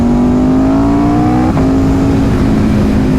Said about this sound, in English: the exhaust sounds absolutely fantastic